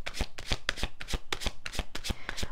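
Tarot cards being shuffled in a quick run of crisp riffling snaps and slaps, close and fairly loud, with no voice over them.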